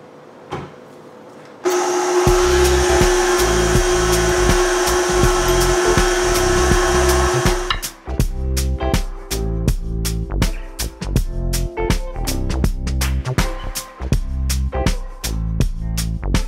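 A stand mixer with a paddle attachment beats Swiss meringue buttercream: a loud, steady motor whine that gives way to fast, rhythmic knocking as the paddle turns through the thick mixture.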